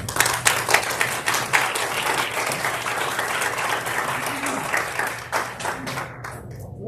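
A school board meeting audience applauds a student named Davion after his speech: steady, dense clapping from many hands throughout, tapering slightly near the end.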